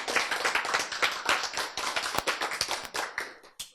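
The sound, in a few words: audience clapping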